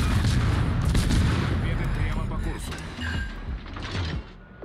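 Warship gun salvos booming in a naval battle video game, several heavy overlapping blasts with rumbling low end at the start, fading into mechanical clanks, with a voice talking over them.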